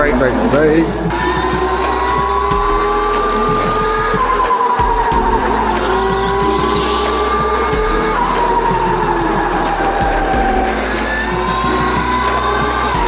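A 16 kW ETM RTR electric bike ridden at speed, its motor giving a loud, continuous high whine that rises and falls with throttle, buried in heavy wind rush, close up.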